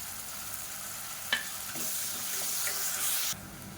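Onions and a handful of mint leaves sauté in a pan for chicken kurma, a steady soft sizzle with stirring scrapes and a brief utensil clink, close and fairly quiet.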